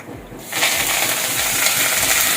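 Curry leaves dropped into hot oil with cumin and asafoetida for a tempering, a sudden loud burst of crackling sizzle that holds steady and close after a brief quieter moment.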